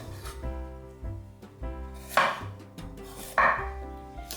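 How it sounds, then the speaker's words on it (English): A knife trims the end and small knobs off a piece of fresh ginger on a cutting board, giving a few distinct close cuts and scrapes over a soft background hum. "If using fresh ginger, first cut off the end and any little knobs along the side."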